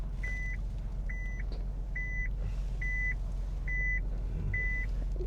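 A second-hand car reverses in Japan, sounding six evenly spaced reversing beeps over a low, steady engine hum.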